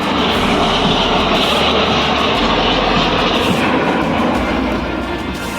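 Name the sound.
Indian Air Force aircraft flypast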